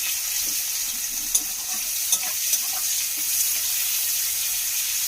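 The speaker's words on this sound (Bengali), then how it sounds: "আমি এইটা 2-1 মিনিট একটু ভেজে নেবো পেঁয়াজটা" Onion frying in a pan for a home-style Bengali fish curry, a steady bright sizzle throughout with a few faint utensil taps.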